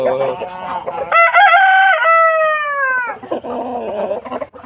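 On a backyard farm in the provinces, a rooster crows loudly and close, one long drawn-out call in the middle, framed by chickens clucking and squawking nearby, with no speech over it.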